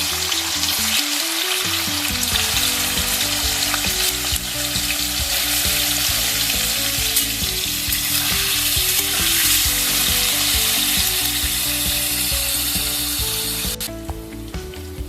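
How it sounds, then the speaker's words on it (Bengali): Steady, loud sizzling of paneer frying in a pan, with occasional stirring scrapes throughout, fading slightly near the end. "এবার আমি পনিরগুলো একটু লালচে করে ভেজে নেব।"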